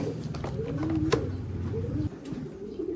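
A blue bar racing pigeon coos close by, giving soft low throaty rolling calls that fade near the end.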